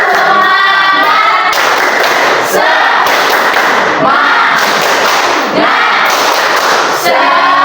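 A primary-school maths class does a rhythmic clapping chant, loud patterned bursts of hand claps and voices repeating in regular phrases, close and continuous throughout.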